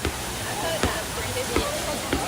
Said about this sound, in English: And then the waterfall.